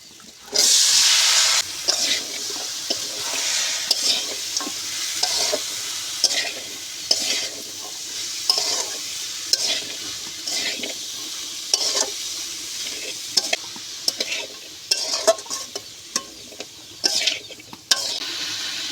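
Potato and radish pieces sizzle loudly in a pan, with a bright, constant frying hiss and repeated rhythmic spatula strokes scraping through the vegetables for the whole stretch, no voices.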